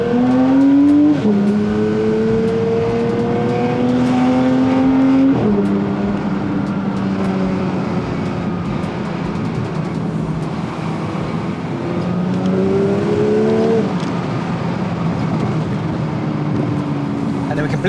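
A 2022 Porsche 992 GT3 engine pulls hard at full throttle, rising in repeated howling sweeps through the gears with quick drops at each shift, loud and close from inside the car.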